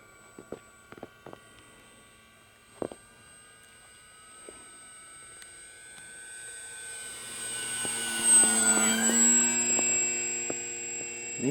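An E-flite Maule RC model airplane flies overhead at a field in Deblois, its electric motor whine rising from faint to loud as it passes close, with scattered clicks early on.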